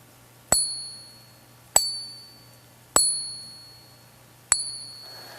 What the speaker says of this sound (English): You can hear that long resonance of a ting. That's silver.